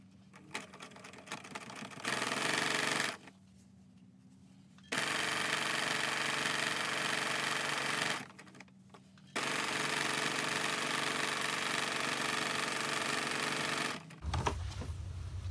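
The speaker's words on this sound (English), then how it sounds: "you're going to start stitching all the way at the corner" A sewing machine stitches a facing strip onto an art quilt, running in loud, steady mechanical bursts of rapid needle strokes separated by short pauses, close by with no talking.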